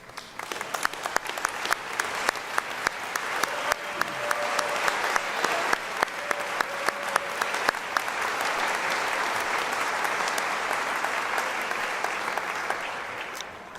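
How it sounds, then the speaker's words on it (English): Sustained applause from the audience for faculty at a university commencement ceremony, a large hall of clapping that builds in the first seconds, stays full and even, then begins to ease off at the end. "please rise so that we can clap and applause for you."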